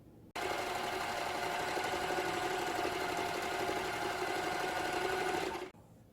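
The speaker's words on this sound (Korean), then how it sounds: "이제는 1cm 정도 시접으로 여기서부터 쭉 박음질을 해줄 건데요" An overlock serger runs steadily for about five seconds, stitching around the edge of scrap fabric for a charcoal sachet. It makes a fast, even mechanical whir with no talk and stops abruptly.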